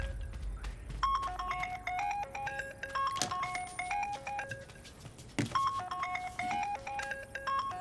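A phone ringtone plays a repeating melodic chime pattern, looping steadily at moderate loudness with faint thumps beneath and no talking.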